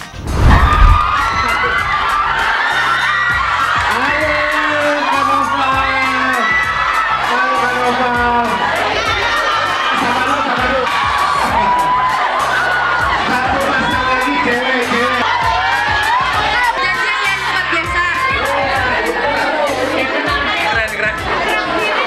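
A large crowd of high school students cheers and shouts with excitement for a visiting film star, a dense, loud, continuous roar of voices and chatter, with shrieks rising above it throughout.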